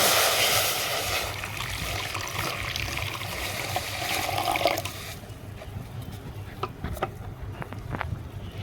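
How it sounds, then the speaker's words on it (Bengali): Water pours into a kadai as a steady, loud rushing stream for about five seconds, then stops and gives way to quieter drips and small clinks. "কড়াইতে এবার জল দিয়ে দেবো।"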